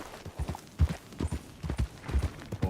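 Hooves of a horse in Red Dead Redemption 2 clip-clop in a steady trotting rhythm, close and distinct, with a few strong low thuds and no talk over them.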